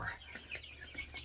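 Chickens in a backyard coop cluck softly at a distance while they eat fresh food, giving short, scattered calls over a steady low background hum.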